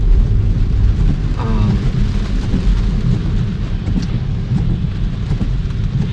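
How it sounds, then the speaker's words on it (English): Steady rain drumming on a car roof and windshield while driving through Flushing, Queens, New York, a loud continuous patter over low road rumble, with no talking. "it's raining also, so that doesn't help"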